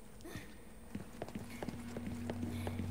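Horse hooves clip-clopping in Resident Evil 4 (2023), a run of regular mid-level hoof strikes over a steady game background hum, with a low tone rising near the end.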